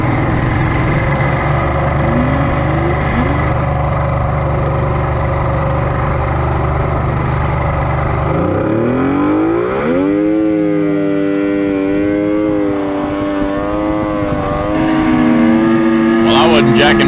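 A homemade boat motor runs on its first ride, a steady droning engine that climbs sharply in pitch partway through, then holds a higher, wavering whine that rises again near the end.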